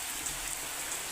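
A sudden heavy rain shower pours down on a village during the monsoon, a dense, even hiss of falling drops that fills the short moment with no voices.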